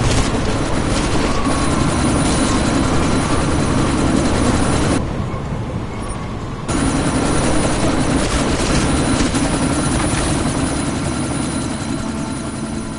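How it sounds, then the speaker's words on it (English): A helicopter in the video game Deus Ex: Mankind Divided, flying through a sandstorm: a loud, steady rotor drone that cuts out briefly for about a second before returning and holding at full strength. "you need to disable that chopper"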